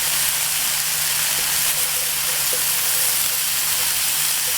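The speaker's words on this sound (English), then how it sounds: "Mix it all through until you can see that the vegetables are starting to cook." Vegetables sizzle steadily in a hot pan while being stir-fried for Mongolian beef, a constant, fairly loud hiss with a low hum underneath.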